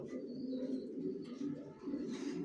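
Young racing pigeons from a single loft, leg-tagged and vaccinated, coo in a steady, close, continuous murmur, with a few faint chirps over the top.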